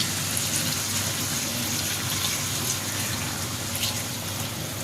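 Hot water poured into a potato and tomato curry for bata fish, a steady unbroken gushing wash of liquid running the whole time without pause.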